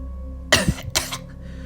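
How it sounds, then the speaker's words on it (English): Two short, harsh coughs close up in quick succession, followed by quiet, from an injured character in a Minecraft story. "She coughs up blood as she drops to the ground"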